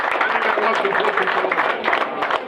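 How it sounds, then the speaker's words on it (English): A crowd applauding, a steady wash of many hands clapping at close range for a couple of seconds. "Give yourselves a round of applause."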